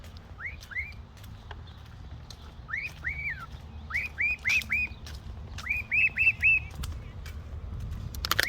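A cockatiel gives repeated rising two-note whistled chirps in short bursts, growing louder and more rapid, clear against a low rumbling background.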